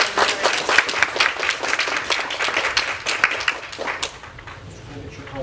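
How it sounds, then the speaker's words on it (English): Audience applause welcoming a panelist at an intersex equality panel discussion, a dense, steady wash of many hands clapping that stays loud for about four seconds before thinning out. "Give him a round of applause"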